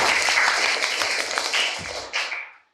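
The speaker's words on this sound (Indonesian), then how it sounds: "Oke, tepuk tangan." Audience applause during a children's rupiah learning event, a dense burst of clapping that carries on, then thins out and fades to silence within a few seconds.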